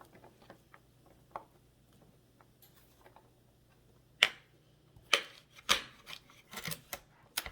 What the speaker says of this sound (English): I'm just going to keep chopping up the asparagus